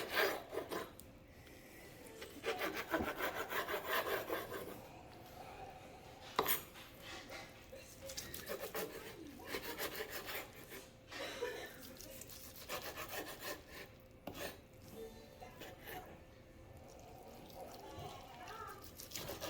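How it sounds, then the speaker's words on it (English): Knife cutting through raw carne asada skirt steak against the grain, a steady run of rasping, scraping strokes repeated over and over, close and fairly quiet, with some brief pauses between bursts. "this is going to take me a couple minutes to finally chop this"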